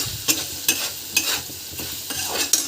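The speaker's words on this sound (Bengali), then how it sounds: "একটু নেড়ে চেড়ে দিই।" Potato mixture with salt and turmeric gets stirred in a pan, four or five sharp spoon scrapes landing at a steady pace over a soft sizzle, close by and with no talking.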